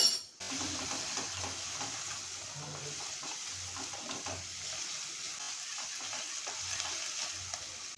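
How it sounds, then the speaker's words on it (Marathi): Onion being sautéed in oil in a pan for a Maharashtrian soya chunk curry, heard as a steady close sizzle with repeated stirring scrapes and knocks throughout and no speech. "हे बघा, व्यवस्थित परतलं गेलेलं आहे कांदा आपला आणि तेल पण हळूहळू रिलीज होत आहे"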